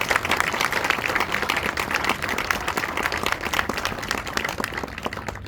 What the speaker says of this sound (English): one last round of applause for all of them